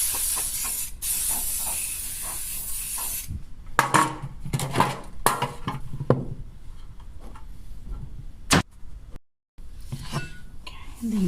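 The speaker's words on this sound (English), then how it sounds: "I'm just going to prepare my pans with some non-stick spray." Non-stick cooking spray hissing onto baking pans in a kitchen, one sustained spray burst at the start followed by shorter puffs, pan clinks and clattering handling.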